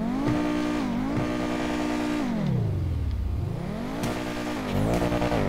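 Car engine starting up and revving in GTA 5, with a rising and falling engine note that dips low mid-clip then climbs again, loud and steady throughout with no talk.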